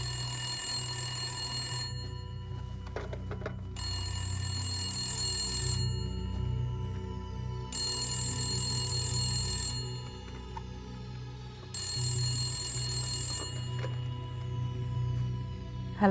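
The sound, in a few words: telephone ringing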